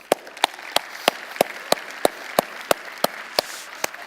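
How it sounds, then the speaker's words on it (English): Steady, evenly spaced claps for a speaker being introduced at a conference event, about three per second, crisp and fairly close against a quiet room murmur. "Let's give him a round of applause."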